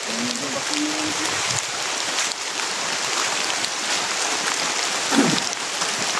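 Heavy rain pouring down in a steady, dense hiss that stays constant throughout, with a few faint incidental noises beneath it.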